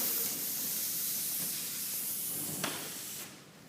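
Airbrush gun spraying cerulean blue paint during a live texture painting class, a steady soft hiss that continues for several seconds before cutting off near the end.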